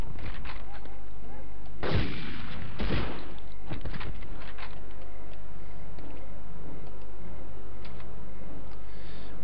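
Gunfire in the PS1 video game Medal of Honor: two loud, sharp shots close together near the start, then a few fainter pops over a low steady game hum.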